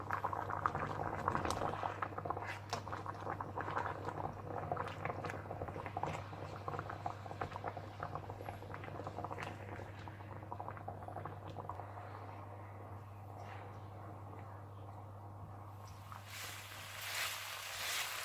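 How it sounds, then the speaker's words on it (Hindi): Chicken boils in water in a pot, bubbling and simmering steadily, a continuous close crackling boil lasting throughout over a low electrical hum. "और अब आपने इसको इतना पकाना है कि इसका पानी इसी में खुश्क हो जाए।"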